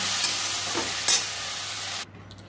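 Water spinach frying with garlic and chili in a pan gives a steady, close sizzle with a brief stirring scrape, cutting off abruptly near the end to near silence.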